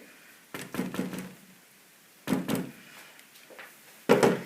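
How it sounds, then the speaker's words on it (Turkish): A baking tray of spinach mole cake batter is knocked against the floor three times, each a heavy close thunk with a brief rattle, separated by short pauses. "Şöyle tepsimizi birkaç tekrar hava kabarcıkları gitsin diye yere vuruyorum."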